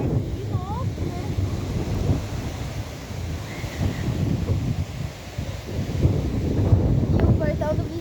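Strong storm wind roars steadily across an open microphone at a house during a rainstorm, with gusty low rumbling buffets rising and falling throughout and a few faint bird chirps in the background.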